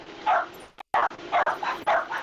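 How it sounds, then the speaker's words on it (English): A Chihuahua puppy yaps repeatedly, about five high, strained barks and whimpers in an uneven rhythm, loud and close with a brief break between them. "I've found the source of the dog. This puppy has what I'd imagine is a Chihuahua."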